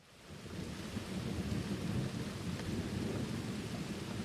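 Steady, dense rainfall with low rolling thunder swells up from a quiet start and holds as a constant wash, with no voices.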